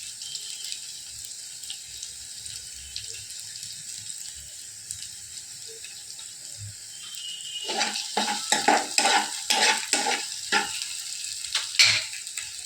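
Onions and three dried red chillies sautéing in oil in a pan, a soft steady sizzle at first, then a run of louder scraping stirs and clanks toward the end.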